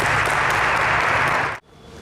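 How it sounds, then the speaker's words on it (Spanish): Loud, dense audience applause greets someone speaker at a talk, sustained clapping that cuts off abruptly near the end, leaving quiet room tone. "un fuerte aplauso para ella"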